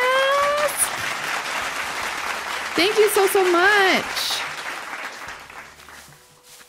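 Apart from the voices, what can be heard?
applause and clapping for Matt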